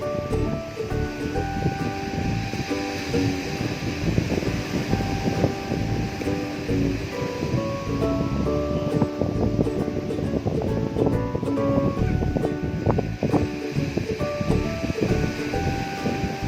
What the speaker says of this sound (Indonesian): Anginnya kencang banget teman-teman.